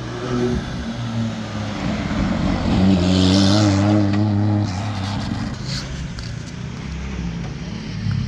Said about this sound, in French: Écoutez cette accélération.